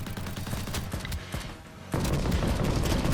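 Rapid video game gunfire at enemies, dense bursts of shots cracking in quick succession, loud and close, with a heavier volley kicking in partway through.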